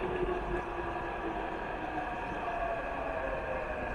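Train pulling into a Taipei metro station platform, a steady broad rumble and rail hiss at moderate level throughout, no voices.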